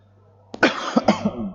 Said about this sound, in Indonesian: Sorry, saya sedikit batuk.